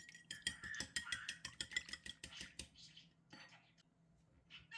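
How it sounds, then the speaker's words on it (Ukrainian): Rapid, regular clinking of a utensil whisking eggs in a bowl, a quick steady rhythm for a few seconds that then slows and fades. "Все швиденько збиваємо, як на звичайний омлет."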